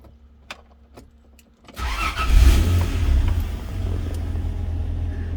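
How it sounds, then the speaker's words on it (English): A Toyota Land Cruiser 80 series engine cranks and catches after a few faint clicks, then settles into a steady, rumbling run, recorded close and loud with no talking. "So if it goes out when I start the car,"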